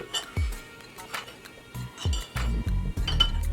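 Metal utensil scraping and clinking against a bowl or measuring cup while flour is scraped out for homemade brownies in a home kitchen, a few sharp clinks and dull scrapes close up, no talk.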